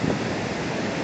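Ocean waves wash onto a beach as a brief, steady roar of surf, a dense hiss with no breaks or voices.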